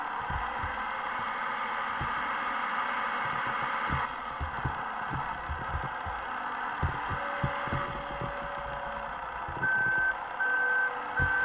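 A truck in the Farming Simulator 18 video game rumbles along, then gives a run of evenly spaced reversing beeps near the end over a steady engine hum, with no talking.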